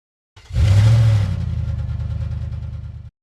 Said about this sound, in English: a V6 engine that is both quiet and aggressive